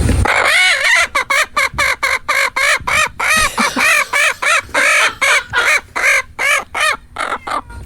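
A hen being tickled gives a rapid run of loud, close, repeated clucks and squawking cackles that come in quick bursts, close to laughter.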